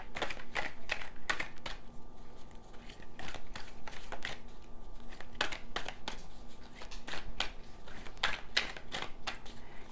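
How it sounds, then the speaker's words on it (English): Tarot cards being shuffled and drawn for a pick-a-card reading, a quiet close run of repeated riffling snaps and card clicks at an uneven rhythm, with no talk. "we are going to draw 3 cards."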